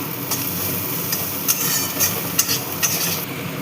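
Kasuri methi being stirred into a pan of Bengali-style chirer polao (poha), giving a steady sizzle with soft scraping strokes of a spoon, a few sharper clinks standing out near the close.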